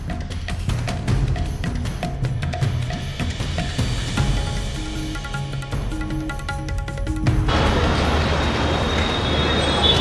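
A Mumbai suburban train stands at Churchgate station during the evening office rush, its wheels and carriages rumbling close by. Metallic squeals and screeches rise over the rolling clatter, growing louder toward the end.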